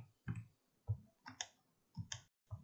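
Arrow keys on a computer keyboard are tapped to nudge a graphic in Corel Draw, about seven crisp plastic clicks in an uneven rhythm, close and quiet against a silent background.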